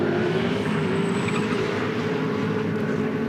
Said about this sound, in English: Sounds like it has a cracked exhaust pipe.